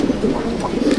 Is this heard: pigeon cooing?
yes